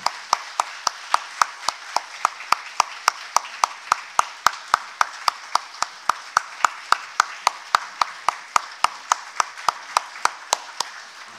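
A congregation at a winter dawn prayer service claps together in a steady, evenly spaced rhythm, about three sharp unison claps per second, for over ten seconds with no voices on top.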